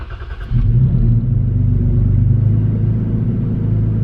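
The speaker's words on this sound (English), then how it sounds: "It has a pretty good sound on startup, I must admit." A Toyota Tacoma fitted with an MBRP exhaust starts up, heard from inside the closed cabin: a brief crank, then a loud low rumbling catch and rev that settles into a steady deep idle.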